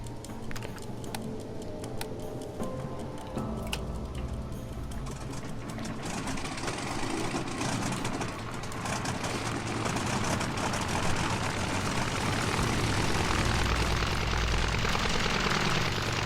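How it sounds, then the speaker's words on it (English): A plane engine starts up in the survival video game Stranded Deep, a rapid mechanical ticking and clatter that builds into a loud, steady, rising drone with no talking. "Okay, so now I have to start the engine."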